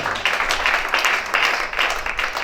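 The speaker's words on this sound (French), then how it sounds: "Oh, mais ça s'acclame aussi." Steady crowd applause and cheering from an audience, a continuous dense clatter of many hands rising and falling in waves over about two and a half seconds, with no clear talk over it.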